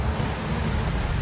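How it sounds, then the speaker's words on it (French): Rain and wind in the video game Trials Evolution, a dense, even wash of falling rain with a low rumbling wind underneath, steady and close for the whole short stretch. "La pluie, le vent."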